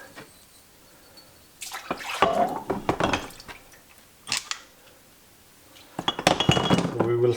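Saab 9-5 Aero engine pistons and connecting rods drop into a liquid bath in bursts of splashing, clinking metal and sloshing, with quiet gaps between; faint talk runs underneath.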